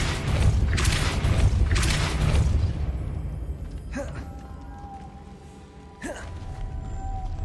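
A Depulso spell cast in Hogwarts Legacy: two sharp magical bursts with a whooshing, ringing tail, around mid-clip and near the end, following a stretch of low rumbling game ambience.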